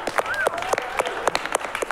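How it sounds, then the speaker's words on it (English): An improv comedy show audience claps, scattered and uneven for about two seconds, with a few sharp individual claps and a faint voice or tone running under them. "give a round of applause to Canoe"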